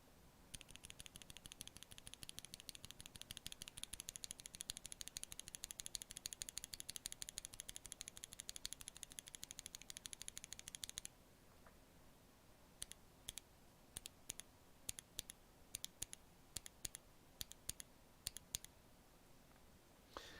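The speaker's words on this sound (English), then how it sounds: "take a quick listen to what the switch sounds like on its own" A lubed mechanical keyboard switch with a keycap is pressed over and over, first in a fast, dense run of clicky, deep clacks, then in sparse separate presses, close and alone.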